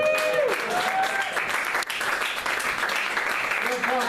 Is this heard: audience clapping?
yes